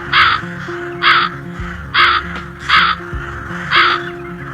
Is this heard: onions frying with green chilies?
no